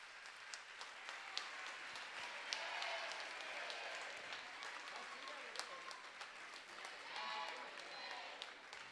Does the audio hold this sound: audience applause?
yes